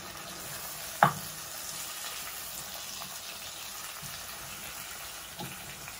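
Pre-softened beef pieces cooking in hot oil in a pan, giving a quiet, steady sizzle with one sharp utensil clink early on and a lighter knock near the end.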